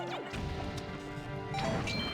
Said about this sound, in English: you can go on ahead and pick them up and throw them to the ground to shatter and kill them